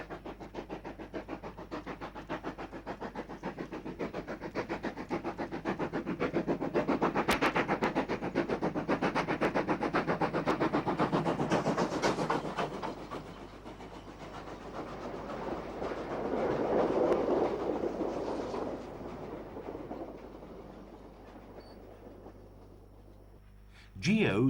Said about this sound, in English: 19C 2439 climbs the bank with a mixed train.